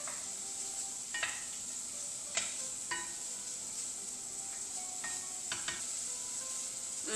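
Steady sizzling of prosciutto and green onion frying in olive oil, with a few sharp clicks and scrapes of a utensil stirring the pan.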